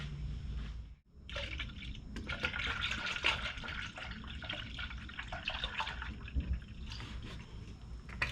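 Coolant pouring steadily through a funnel into a Honda radiator, a continuous gurgling splash with occasional drips, close by and moderately quiet.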